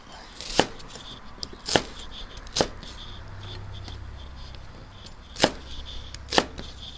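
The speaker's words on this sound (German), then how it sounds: "Zwiebeln dazu. Auch hier braucht ihr nicht viel machen. Einfach vierteln." A knife chopping onions into quarters for a roasted pumpkin soup, a handful of sharp, isolated cuts spaced about a second apart, fairly close, over a low kitchen background hum.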